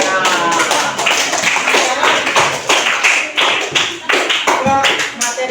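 Audience applause at an Indonesian lecture on tolerance and diversity, a dense, steady burst of many hands clapping close by for several seconds, with uneven surges and a murmur of voices mixed in.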